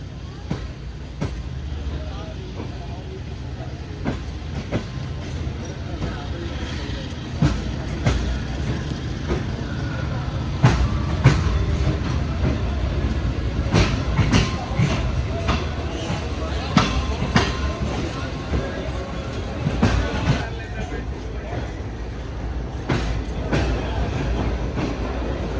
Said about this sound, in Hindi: कराची से सियालकोट के दरमियान चलने वाली 9 अल्लामा इकबाल एक्सप्रेस यहाँ पर मौजूद है